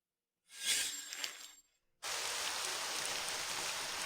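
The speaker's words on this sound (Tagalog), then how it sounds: "Napakalakas ng ulan." Heavy rain pours down in a steady, dense hiss. It cuts in abruptly after a brief earlier burst of splashing and keeps going loud and close, with no talk over it.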